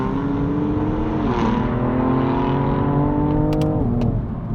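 BMW F80 M3 engine in M2 mode, a loud, steady close-up drone with rising and falling harmonic pitch as revs shift, sustained throughout with a brief change near the end.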